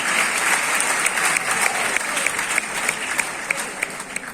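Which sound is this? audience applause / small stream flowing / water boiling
audience applause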